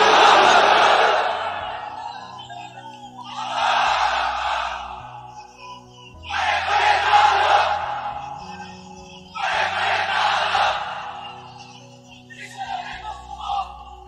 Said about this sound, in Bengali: তাকবীর পড়েন তো দেখি, যারা চলবে বলতেছেন লিল্লাহি তাকবীর